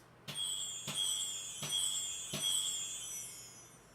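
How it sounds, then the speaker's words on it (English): Wind chimes patch from an Alesis Nitro Max electronic drum module, struck four times at steady intervals, each hit leaving a bright shimmering metallic ring that sustains and overlaps, heard alone. "367 Wind Chimes."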